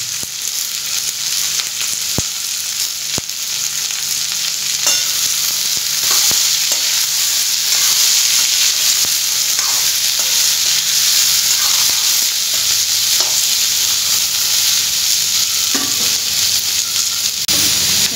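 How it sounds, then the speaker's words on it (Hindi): Kundri (ivy gourd) fries with browned onion in a hot pan, a loud continuous sizzling hiss with occasional sharp clicks of stirring, steady from start to finish. "अब हम इसमें कुंदरी डाल देते हैं।"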